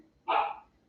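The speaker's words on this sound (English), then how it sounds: "Ooh, that's my dog." A pet dog gives a single short, sharp bark from nearby in a quiet indoor home setting, with no one talking.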